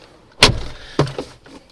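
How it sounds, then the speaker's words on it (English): A door on a 1983 Porsche 911 3.0 SC shuts with a solid close-range thump at about 0.4 s. A second, lighter latching knock follows near 1.0 s, with no talking. "that noise is really nice from the door."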